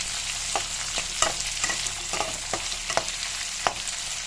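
Ivy gourd (dondakaya) frying in a pan, a continuous sizzle broken by sharp clicks of a utensil stirring at irregular intervals, close and moderately loud with no voices.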